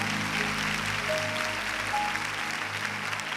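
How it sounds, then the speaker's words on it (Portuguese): A church congregation clapping in praise during a worship service, a dense continuous patter of many hands over a low sustained musical hum, with faint sung tones rising briefly. "Você pode aplaudir ao Senhor?"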